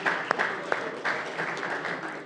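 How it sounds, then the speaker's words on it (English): Brief applause rises on the Alabama Senate floor, scattered hand claps with a few sharper individual claps, moderately loud and short. "Let's give him a round of applause."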